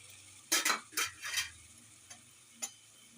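Tomatoes hit a curry pan in a few sharp, splashy sizzling bursts close by, followed by quieter scattered clicks and taps.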